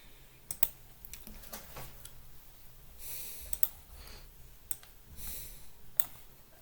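Computer mouse and keyboard clicks while working in Excel, a handful of sharp, isolated clicks spaced irregularly over quiet room tone, close and crisp.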